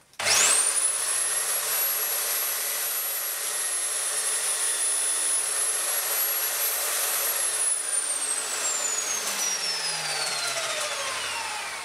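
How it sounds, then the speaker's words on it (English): Power saw cutting through a small piece of pine, a loud sustained high whine that runs steadily for several seconds before the blade spins down and fades out. "So I'll just cut that with a saw."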